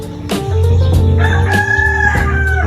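A fighting rooster crows loudly and close, one long drawn-out call over a steady background hum, with no talking.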